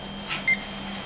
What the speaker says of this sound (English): Why two beeps?